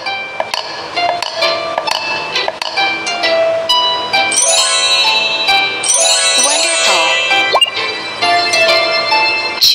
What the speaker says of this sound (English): Add ice cube in glass.